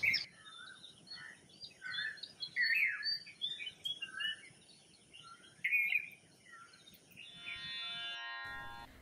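Wild mynas call one after another near a window, a string of sharp, chattering whistles and squawks in bursts with short gaps, fairly close and alone, ending in a brief harsher buzzing note.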